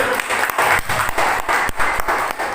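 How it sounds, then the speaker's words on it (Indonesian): An audience claps steadily throughout at an event welcoming a presenter, a dense, continuous round of applause that sounds fairly close and lively, with no talk over it. "Aplaus untuk Bu Utik."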